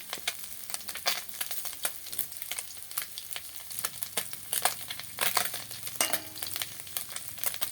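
Small mourala fish sizzle and spit in hot oil, a steady crackling fry broken by sharp pops and scraping stirs throughout, close and moderately loud with no voices.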